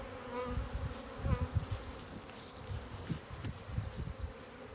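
Honey bees buzz in a dense, steady swarm as they are shaken back into a hive at an apiary in Ballachulish, with irregular louder surges of wingbeats close to the listener.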